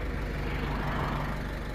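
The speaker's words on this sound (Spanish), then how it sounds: "Todo el lienzo lo hicimos con este tractor." A tractor engine idles close by, a steady low rumble and continuous droning hum with no talking.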